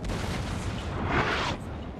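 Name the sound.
cannon fire in video game Napoleon Total War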